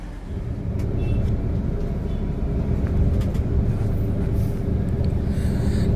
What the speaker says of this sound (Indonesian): bus ini pun akhirnya bergerak untuk mengarah ke gerbang tol Citerep Cibinong